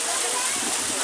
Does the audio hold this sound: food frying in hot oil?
no